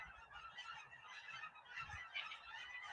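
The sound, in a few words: ducks flying overhead in the sky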